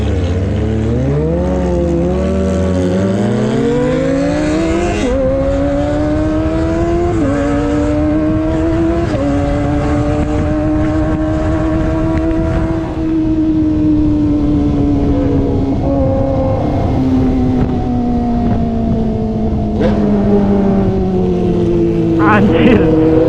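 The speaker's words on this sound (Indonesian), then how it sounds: "Anjir, dia naik 6 geber-geber terus deh." Kawasaki ZX25R four-cylinder motorcycle with an aftermarket exhaust, revving hard and climbing through the gears to sixth on a road ride home from touring, loud and close, with rising engine pitch sweeps and a voice talking over it.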